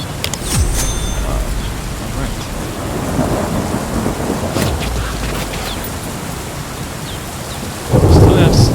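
Rain pours steadily in the game Drug Dealer Simulator while low thunder rumbles underneath, swelling into a louder, close crack near the end.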